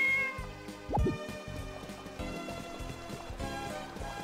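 In the video game Harvest Moon: Magical Melody, a cat gives a couple of short meows over light background game music.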